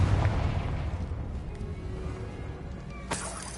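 Confringo fire-blast spell explosion in Hogwarts Legacy on PS5, a booming burst up front that fades into a rumbling tail, followed by a sharp crack near the end.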